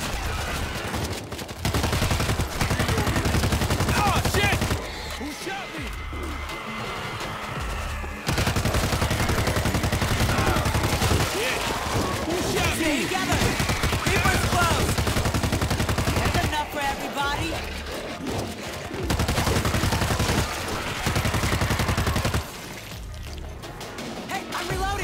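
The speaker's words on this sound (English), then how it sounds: "Stop shooting!" Heavy gunfire from a zombie shooter video game comes in long, loud bursts of automatic fire separated by brief quieter gaps, with occasional thuds and crashes and some voices talking between volleys.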